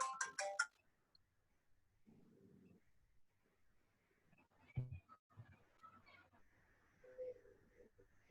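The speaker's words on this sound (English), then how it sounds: "Okay, I think a call is coming into his phone." A mobile phone ringtone sounds from an incoming call during a speaking event: a short, bright ringing burst right at the start, followed by people talking and scattered room noise.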